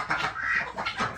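Chickens, including a brooding hen, clucking and calling in a backyard coop, a short run of close, bright, rhythmic clucks with no talk.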